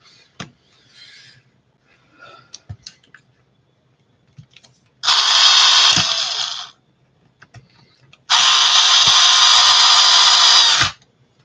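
Two bursts from a power driver tightening screws on a Tekno ET410 RC truck being converted to a 4wd short course truck, each a loud whirring run of about two seconds, separated by small clicks and handling taps.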